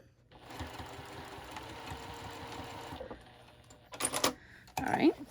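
A sewing machine stitches close to the edge of a fabric clutch, running in a steady rapid whir for about three seconds, then stopping, followed by short handling noises and clicks.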